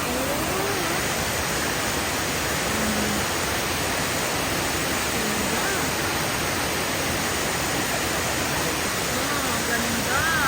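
Engkanto Falls, a waterfall in Bicol, gives a loud, unbroken broadband rush of falling water that stays steady from start to finish, with voices faintly under it.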